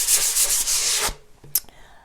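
Brisk rubbing and scratching strokes on wooden furniture, abrading the finish to remove sheen before chalk painting, up close for about a second, followed by quieter brief scrapes and taps.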